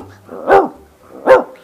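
A voice imitates a large dog barking, two deep, loud, close woofs spaced about three-quarters of a second apart, each a rounded, resonant bark with nothing else around them.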